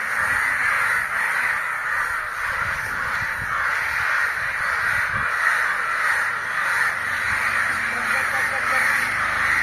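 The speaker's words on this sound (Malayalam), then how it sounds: "ഈ കാക്കകൾ കരയാൻ എന്തിനാണ്?" Several crows caw harshly and repeatedly, a dense overlapping chorus that carries loud and near throughout, with people speaking faintly beneath it.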